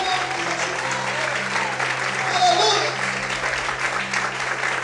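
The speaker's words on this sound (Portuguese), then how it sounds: "Aplauda Ele, adora o Senhor." Church congregation applauding during worship, steady continuous clapping filling the room with a brief swell midway, while a voice exclaims over it.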